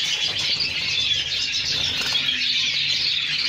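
A dense, continuous chorus of many small birds chirping fills an aviary, loud and close, with occasional wing flutters and no voices.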